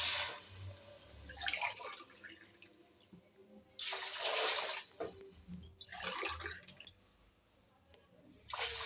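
Water poured from a glass into a biryani pot in a home kitchen, three glassfuls added to onions browned with ginger-garlic paste, heard as three separate splashing pours, each a few seconds long with quieter pauses between.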